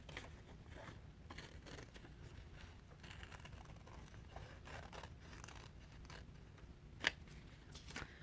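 Scissors snip through paper while a circle is cut out for a first-grade fruit craft, a quiet steady run of small cuts with one sharper snip near the end, heard up close over faint background hiss.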